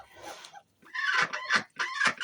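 Several quick, nasal squawking calls close by, three or four bursts with short gaps, like ducks quacking.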